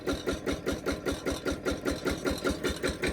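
A VST tractor engine hitched to a loaded trolley runs with a fast, steady chugging pulse, its loud even rhythm holding close and unbroken throughout.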